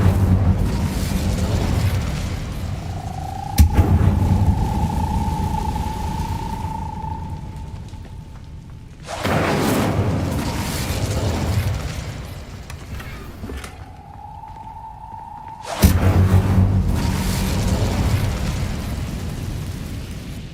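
Incendio fire spells in Hogwarts Legacy erupt three times in loud, crackling fiery bursts, each decaying into a lingering roar, with a rising whooshing tone swelling in the pauses before the second and third blasts.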